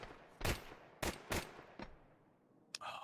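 Gunfire rings out in a competitive shooter match, several sharp shots in short bursts with gaps between them, moderately loud and fairly close, with no voices over them.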